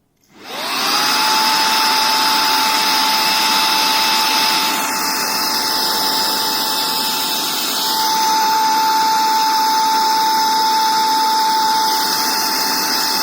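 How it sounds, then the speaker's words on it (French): An Antifnuo cordless handheld 3-in-1 vacuum cleaner runs on its first speed, a loud steady motor whine with a high tonal hum that starts abruptly, shifts pitch slightly midway and continues without talk. "Là je vais démarrer l'aspirateur et vous allez voir"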